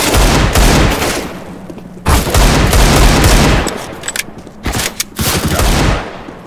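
Bursts of rapid gunfire from the game CS:GO crackle in long sustained volleys with brief pauses between them, loud and close, with no talking.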